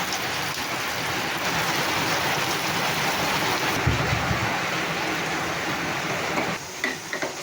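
Sliced onions fry in a couple of spoons of oil in a pan while browning for a pressure-cooker chicken biryani, a dense, steady, rain-like sizzle that continues for several seconds, with a few faint clicks and knocks near the end.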